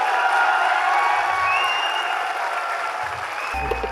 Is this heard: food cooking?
no